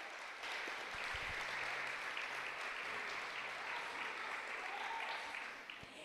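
A church congregation applauds for several seconds during a service, a broad sustained wash of many hands clapping at fairly even loudness, with a brief voice underneath before it starts to fade at the end.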